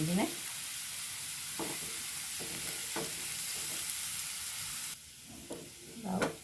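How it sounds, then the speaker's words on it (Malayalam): Onions fry in a hot pan with curry leaves until browned, a steady close sizzle with occasional stirring scrapes and a brief louder burst of spattering near the end. "ഉള്ളി മൂപ്പിക്കുന്ന ബ്രൗൺ നിറയെ"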